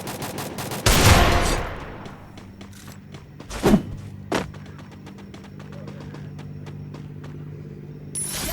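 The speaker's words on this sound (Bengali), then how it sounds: "ডেজার্ট ইগল শুধু 7টা এমো ছিল, 7টা দিয়েই 3জনকে নক করে দিলাম।" Desert Eagle pistol shots in the video game Free Fire: a few loud, separate blasts, one big shot early followed by sharper single cracks, trailing into quieter game ambience.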